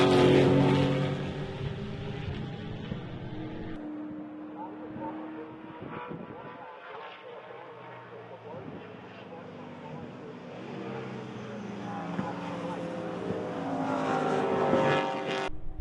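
Touring race cars, Holden Commodores and a Mazda 3, roar around a racetrack, engines rising and fading as they pass at a distance, heard beneath a commentator's continuous voice.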